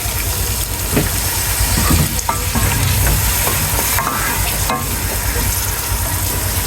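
Masala frying in a pot with yakhni stock while being stirred, a loud, continuous, close sizzle marked by occasional scraping strokes of the stirring spoon.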